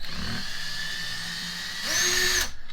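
A power tool unscrews the casing of an ECHO DHC-2300 56V battery hedge trimmer, a steady high whine that rises into a brief faster spin before stopping, close and moderately loud.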